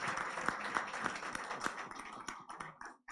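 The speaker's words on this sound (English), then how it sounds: "Give them a round of applause." Audience applause at the signing ceremony for the NLNG Train 7 EPC letter of intent, scattered hand claps with a few sharp louder ones, fading and thinning out toward the end.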